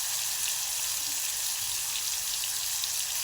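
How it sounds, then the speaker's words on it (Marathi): Vegetables sautéing in hot oil in a pan, a dense, steady sizzle and crackle throughout, close and loud with no speech. "आता असं तेलामध्ये परतून घ्यायचं, छानपैकी परतायचं एकदम असं"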